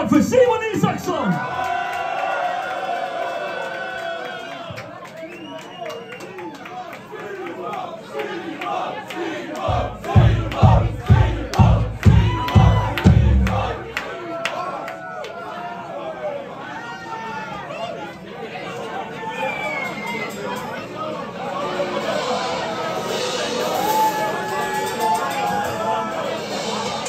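A concert crowd at a release-party show at Kulturhuset Jönköping roars with cheers and shouts, breaks into a burst of loud rhythmic clapping or stomping, then settles into sustained cheering and chatter.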